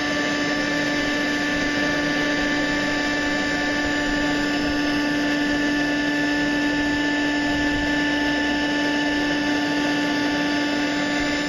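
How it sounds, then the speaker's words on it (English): A gold prospecting suction tube with a small intake, about 3/16 inch, sucks fine material from the bottom of a rock crack, a steady loud whining motor hum with constant tonal drone throughout and no talk. "now you're just trying to suck out the very bottom of that crack"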